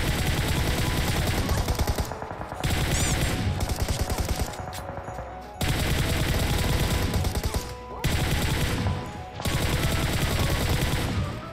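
Gunfire aimed at the player in PUBG Mobile comes as loud, rapid automatic bursts in several long volleys with short gaps between them. A voice is faintly present underneath.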